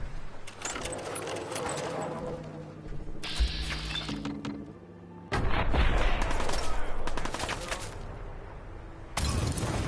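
A musket in the Fallout 4 video game fires in sharp, loud blasts, with bursts of clattering and mechanical winding noises in between across the stretch.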